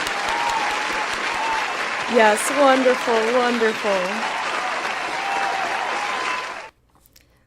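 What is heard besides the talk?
audience applause for stream sponsors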